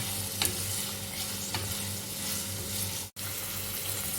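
Onions frying in a pan as they soften, a continuous close sizzle with occasional stirring clicks and one brief dropout, steady in level throughout with no talking.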